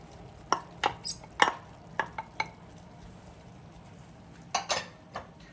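A spoon stirs rice with mixed peas and carrots, olives and capers in a pot for arroz con pollo, making close, irregular scraping and clinking strokes in a quiet kitchen with no talking.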